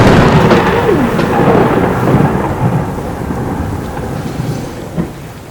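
Heavy rain pours in Nashville while a long rolling thunder rumble builds loud at the start and fades over several seconds, with a brief sharper crack near the end.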